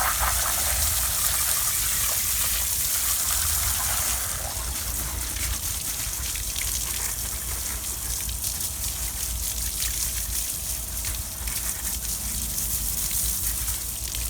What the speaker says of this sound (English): all you do is you rinse it off with a hose.